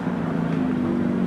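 A Mazda MX-5 race car at a hillclimb start line, its engine droning steadily at a distance as it launches, a constant mid-pitched hum with no talking.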